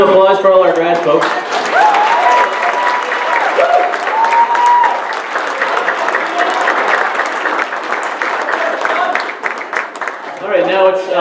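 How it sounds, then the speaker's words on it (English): A crowd at a 2016 OHA graduation ceremony breaks into loud, sustained applause for the graduates, with cheers and voices rising over the clapping and a speaking voice at the start and end. "How about a big round of applause for all our grads, folks?"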